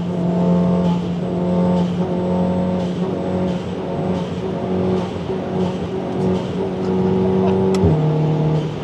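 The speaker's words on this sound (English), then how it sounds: "This is Mr. Ande driving" Car engine droning steadily from inside the cabin while driving, a sustained loud hum with a slight shift in pitch near the end, heard alone without talk.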